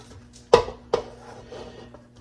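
A spoon knocks twice against a bowl while mixing cornbread dressing ingredients, two sharp clinks close by followed by faint scraping.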